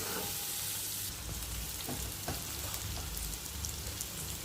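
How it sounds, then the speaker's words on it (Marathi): Bitter gourd sautéing in a pan over a low flame for karela bhaji, a steady, close crackling sizzle that runs the whole time with a few soft stirring knocks and no voices. "आता हे आपण कमी फ्लेमवर परतून घेणार आहोत"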